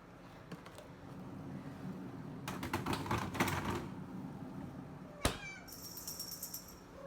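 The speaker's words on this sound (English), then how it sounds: "you can hear my cat. She's meowing." A cat meows softly a few times amid faint clicking and rustling, then a sharp knock and a thin higher meow near the end.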